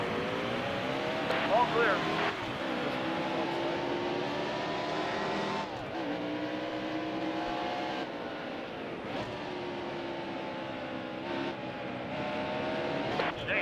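Race cars roar around a dirt track at a redneck race, engines droning steadily and shifting pitch as they pass, with a voice talking over the continuous loud motor noise.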